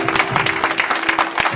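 A congregation at a French-language Christian healing service claps for Jesus in quick, dense bursts, loud and close, with no voices clearly standing out over the applause.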